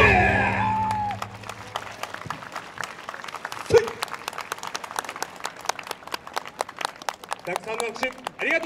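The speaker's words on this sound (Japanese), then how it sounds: "拍手ありがとうございました。" Applause and some cheering from a festival crowd after a dance troupe's performance at an outdoor Yosakoi-style street festival stage in Akita, with dense clapping throughout and a brief louder burst partway, voices mixed in.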